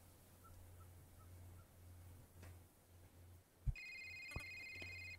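A cell phone rings in the video game A Short Hike, a bright electronic ring with stacked tones that starts partway through. It holds steady over a low ambient hum with a couple of faint ticks.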